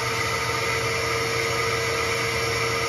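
The vacuum motor of a DIY record cleaning machine runs continuously with a loud, steady whooshing roar and a faint whine, unbroken and close by.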